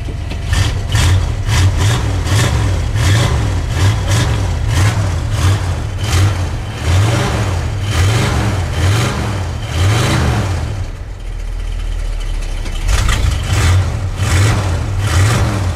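Old Ford cars with mufflers fitted idle after a cold start in sub-zero weather, a loud, lumpy engine rumble with rhythmic low pulses and a brief dip before it settles back.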